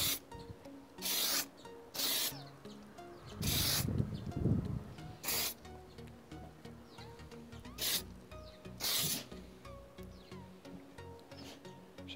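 A cheap spray paint can with a fixed nozzle hisses outdoors in the wind in several separate bursts of one to two seconds, close and loud, with gusty rumble between the sprays.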